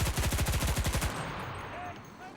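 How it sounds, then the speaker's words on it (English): A submachine gun in the game Enlisted fires a rapid burst of about a dozen evenly spaced shots at range, loud and close, then trails off into an echoing tail. "given that's a submachine gun and I am shooting at range"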